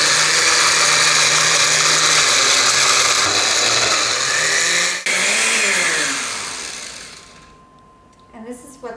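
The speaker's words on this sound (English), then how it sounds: "turn your blender on," A blender chopping raw cranberries whirs loudly and steadily, its motor pitch shifting as it chops, then winds down and stops, leaving a few faint clicks and knocks.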